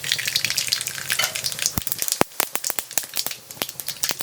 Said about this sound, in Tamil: இப்போ நம்ம புளிக்காய்ச்சலுக்கு போட்ட எண்ணெய் காஞ்செடுத்து நான் அதில் கொஞ்சமாக கடுகு சேர்க்குறேன்